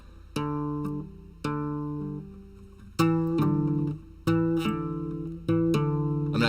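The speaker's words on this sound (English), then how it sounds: "A pull-off sounds like this." Guitar pull-offs played alone: a series of clean plucked notes, each quickly dropping to a lower pitch as the fretting finger flicks off the string, in short separated phrases.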